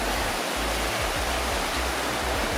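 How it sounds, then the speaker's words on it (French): River water flowing under a small bridge in Annecy, a dense, continuous rushing wash that holds steady and loud throughout, with no voices over it. "L'eau qui s'écoule sous le petit porche qui renferme, qui cache le marché."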